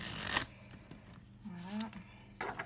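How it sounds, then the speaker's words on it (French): Mystical Shaman Oracle cards being shuffled by hand: a short papery riffle burst, then quiet soft card rustles and slides, close and faint, with a brief murmured voice. "Hop, mélanger comme il faut."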